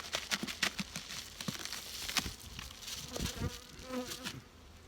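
A swarm of honeybees hums close by on brood frames, a steady buzzing with faint crinkling handling noises mixed in.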